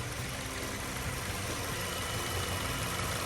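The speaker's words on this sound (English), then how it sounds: "So many people just rave over this engine sitting inside of this Forester right here." A Subaru Forester engine idles steadily with a low, even hum and a constant broadband whir, heard close and alone for a few seconds.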